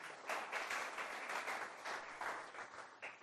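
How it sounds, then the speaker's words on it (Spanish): Church congregation gives a strong round of applause to the Lord during a sermon, dense clapping in surging waves, faint and distant in level, with no talking over it. "Dale un fuerte aplauso al Señor."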